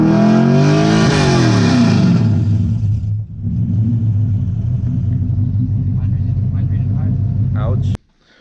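A car revs hard during an exhaust decibel test at a drift event, a loud roaring rev that drops back to a rumbling high idle before cutting off abruptly, with faint voices nearby.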